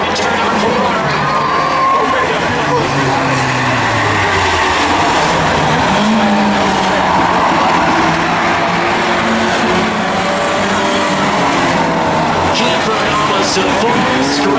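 Stock cars in a claimer race roar around a track, engine notes rising and falling as they pass, with a crowd murmuring in the background and a commentator talking throughout.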